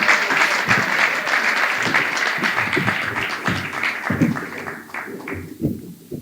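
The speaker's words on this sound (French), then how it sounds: "Oumba Gloria, sous vos applaudissements." Applause from a debate-contest audience welcoming a finalist to the stage, dense, steady clapping that runs the full length before starting to thin out near the end.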